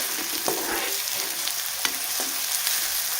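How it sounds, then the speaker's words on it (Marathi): Wet, freshly harvested onion sautés in a pan with a dense, continuous sizzle, close up and loud, with faint scrapes of stirring and no talking. "कांदा परतायला 2 ते 3 मिनिट लागतात, कारण की हा जास्त ओला कांदा आहे"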